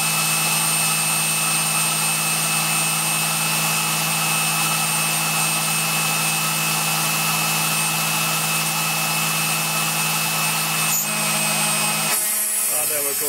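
A Kress spindle on a Tormach PCNC 1100 milling machine whines steadily with a constant tonal hum as it makes a shallow cut, loud and unbroken, with a brief clatter near the end.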